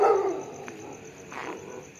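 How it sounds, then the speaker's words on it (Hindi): A dog barks once loudly at the start, followed by fainter barking and yips a little further off. "किस तरह भौंकने लग गए"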